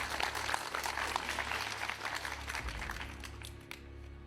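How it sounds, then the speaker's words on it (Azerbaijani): An audience applauds during a televised quiz show, a steady, dense wash of clapping that fills the whole stretch before tapering slightly at the end. "9 nəfəri biz alqışlayırıq"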